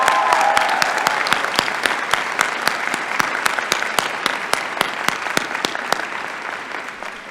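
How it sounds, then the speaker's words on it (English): A commencement audience at a UC Berkeley College of Chemistry ceremony applauds graduating students, with loud, sustained clapping from a large crowd that gradually thins out. "Please give them all a round of applause."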